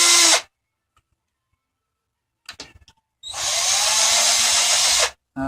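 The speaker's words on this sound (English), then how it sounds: "if you keep using the drill, it'll pull it right out" A power drill runs in short bursts while pulling out a pin, giving a loud high whir. Quiet gaps and a few scraping clicks fall between the bursts.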